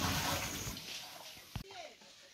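Water splashes and pours steadily as containers are filled at a village home in Konkan, a broad rushing wash that thins out near the end, with voices talking over it.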